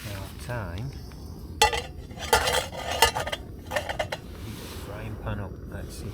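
Metal cutlery and a frying pan clatter and clink in short bursts, close by, over a low background hiss, at a wild camp in the Lake District.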